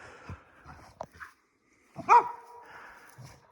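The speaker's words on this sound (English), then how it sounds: "Got some dogs over here." Dogs bark from across a hillside property by a road: a few scattered, moderately distant woofs and yips, with one louder bark standing out in an otherwise quiet outdoor setting.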